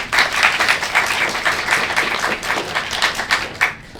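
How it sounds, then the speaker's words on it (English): An audience at a science talk event claps in a lively, fairly close round of applause with distinct individual claps, steady throughout and fading out at the end. "So big round of applause for Maggie."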